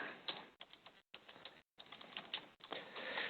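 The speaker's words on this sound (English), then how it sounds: "let's see if I can type right" Rapid keystrokes clatter on a computer keyboard at close range, typed in quick bursts with a few brief pauses between them.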